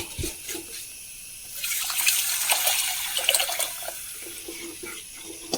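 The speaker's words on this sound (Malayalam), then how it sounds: "നമ്മുടെ പുളിവെള്ളം പുളി തക്കാളി മല്ലിയിലൊക്കെ ചേർത്ത് ഇതിലേക്ക് ഒഴിച്ചു കൊടുക്കും" Quiet at first, then a stream of tamarind water with tomato and coriander splashes into a pot for a couple of seconds before tapering off.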